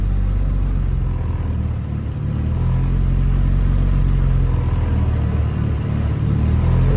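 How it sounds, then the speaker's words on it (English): A Honda Civic engine idling with a low, steady rumble that dips and swells slightly as the idle surges, close and continuous with no voices. "Started doing the idle surge again."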